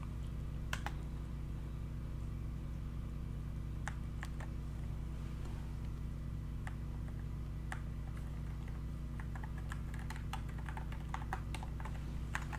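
Keys on a white-LED Balloon 84 low-profile mechanical keyboard are struck in scattered light clicks, sparse at first and then quicker, over a steady low electrical hum.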